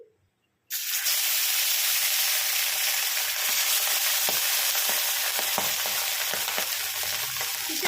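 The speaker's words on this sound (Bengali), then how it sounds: "লেজাগুলোকেও ভেজে নেব" Salted hilsa fish tails dropped into hot oil, a sudden loud, steady frying sizzle with small pops and crackles that continues close up without talk.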